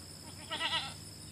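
A newborn Nigerian Dwarf goat kid gives a single short, high, wavering bleat, near and clear over a quiet background.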